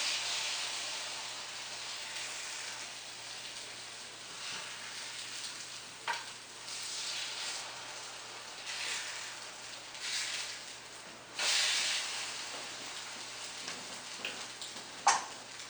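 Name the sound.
French toast sizzling in a pan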